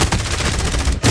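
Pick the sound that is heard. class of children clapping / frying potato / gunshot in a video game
gunshot in a video game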